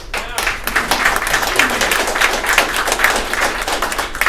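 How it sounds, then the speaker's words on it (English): Audience applause fills a Web3 event hall at the start of 2023, steady dense clapping from a crowd lasting the whole stretch at a loud, even level. "Give yourselves a round of applause."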